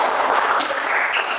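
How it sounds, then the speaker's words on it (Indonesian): Classroom applause for a student group, a dense, steady patter of clapping hands filling the short moment at an even level with no talking over it. "tepuk tangan buat kelompoknya Mbak Kina."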